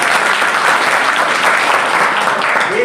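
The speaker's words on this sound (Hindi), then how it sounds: "तो एक बार जोरदार ताली हो जाए।" An audience at a village CTET coaching class celebration claps loudly, a dense continuous burst of applause filling the whole moment at close range.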